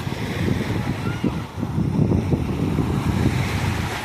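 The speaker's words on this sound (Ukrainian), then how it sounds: "І море таке собі вже не дуже спокійно." Restless sea surf breaking on a beach in May, a steady close wash of waves mixed with gusty wind buffeting the microphone, continuous and fairly loud with no pauses.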